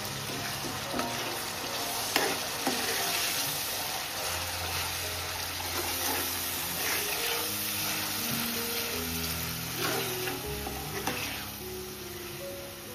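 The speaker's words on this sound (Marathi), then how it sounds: "चला आपण आता भाजलेला कांदा आणि टॅमॅटो तो ॲड करू." A purée of roasted onion and tomato fries in a pan for a freshwater crab curry, a continuous moderate sizzle with repeated scraping stirs and occasional spoon taps.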